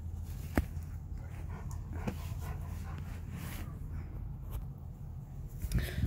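A seven-month-old Great Pyrenees puppy whimpers in short, faint bursts over a steady, noisy rural background, with a couple of sharper knocks along the way.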